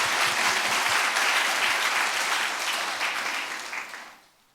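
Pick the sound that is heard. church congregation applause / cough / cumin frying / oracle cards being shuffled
church congregation applause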